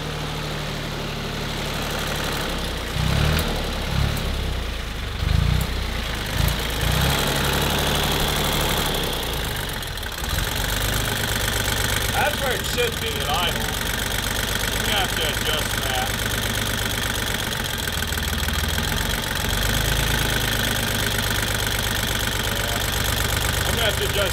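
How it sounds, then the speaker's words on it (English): A John Deere 1050 tractor's Yanmar diesel engine idles close by, a loud, steady, rough throb that holds throughout, with someone talking over it early on. "let me adjust this idle, and this thing can just, just let this thing idle"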